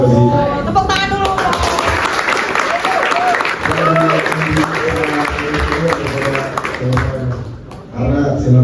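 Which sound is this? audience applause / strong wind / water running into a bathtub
audience applause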